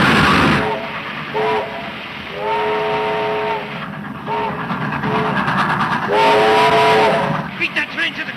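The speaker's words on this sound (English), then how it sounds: "Beat that train to the crossing." A train rolls past with a heavy rumble while its horn blows in several long and short blasts, loud and near, with background voices faintly mixed in.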